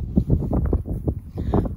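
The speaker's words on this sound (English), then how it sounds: "it's really, really windy at the minute" Strong wind buffets the microphone in low, rumbling gusts, loud and close, with no talking, on a winter wild camp on a Shropshire hill.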